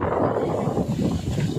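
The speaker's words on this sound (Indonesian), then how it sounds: "Angin guys." Strong, gusty wind at Keten beach buffets the microphone in a loud, continuous rumble that rises and falls in gusts, with no clear talk.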